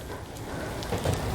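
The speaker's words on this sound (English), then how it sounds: "it's raining." Steady rain falls outdoors as a continuous, even hiss with soft patter and no clear individual drops, and no voices over it.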